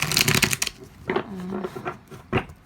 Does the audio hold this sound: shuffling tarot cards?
yes